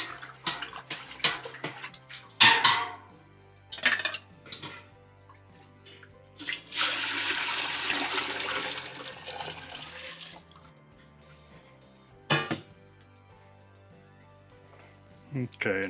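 A full gallon of liquid is poured into a larger boil pot for home brewing a Belgian tripel, producing a sustained splashing gush lasting a few seconds between quieter handling clatter and knocks.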